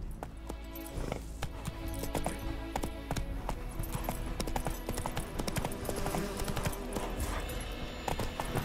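Horse hooves clip-clop steadily at a trot in The Witcher 3 Next Gen on PS5, a continuous rhythmic beat under game music and ambient effects, with an occasional snort.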